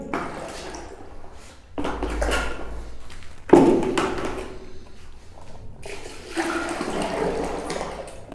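Water-based wall paint is mixed with about ten percent water, giving a close wet churning and sloshing in bursts, with a knock and a pause partway through.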